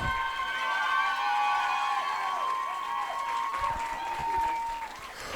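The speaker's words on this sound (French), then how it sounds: "Max applaudissements." A gala audience applauds and cheers loudly after the DDS Afro group, with sustained clapping, high-pitched cheering and whoops carrying over the crowd noise.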